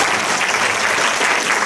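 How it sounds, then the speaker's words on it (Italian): Sustained, loud applause from an audience at a book presentation, many hands clapping in a thick continuous roar that holds steady from start to finish. "Applauso!"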